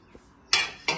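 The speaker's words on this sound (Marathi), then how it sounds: "तवा ठेवला" A metal griddle is set down on a gas stove for making bajra bhakri, two sharp, close metallic clanks in quick succession following a faint earlier knock, with no talking.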